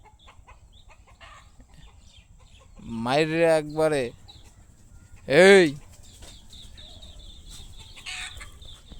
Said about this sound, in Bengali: এই হচ্ছে দেশি মুরগিগুলো কুকুরে দৌড়ানি দিয়েছে, তো এগুলো চলে যাচ্ছে অলরেডি বাসায়